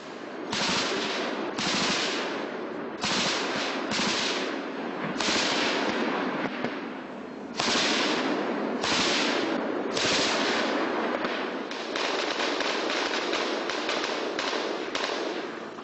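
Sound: gunfire from militants

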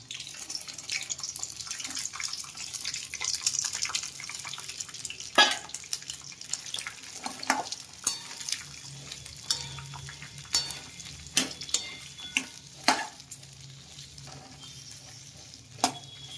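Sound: chopped tindora cooking in oil with spices

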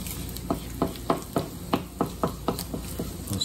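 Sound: sea robin roe frying and being stirred in a pan

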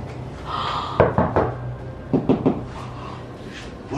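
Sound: knocking inside the walls

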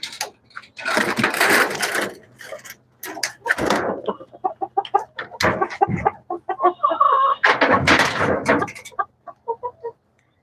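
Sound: chickens clucking

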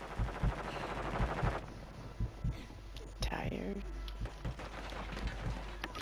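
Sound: gunfire from enemies on the roof in a video game

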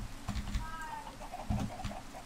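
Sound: chickens clucking in Minecraft video game

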